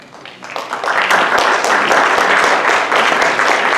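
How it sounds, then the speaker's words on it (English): An audience at a beauty pageant finale bursts into applause, clapping swelling quickly after a quiet start and then holding loud and dense until the end. "please definitely give a round of applause for them"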